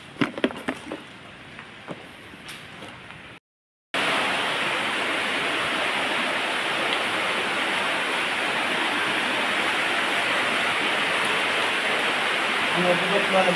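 An underground river in Lobo Cave in Jiabong, Samar, Philippines rushes in a dense, constant roar after a few brief knocks and a short pause.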